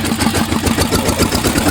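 Tractor engine idles close by with a rapid, even thumping chug, loud and steady throughout with no voices.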